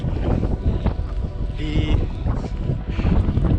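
Strong wind buffets the microphone on a snowy mountain trail in the Lofoten islands, gusting roar with uneven surges, while someone speaks briefly under it.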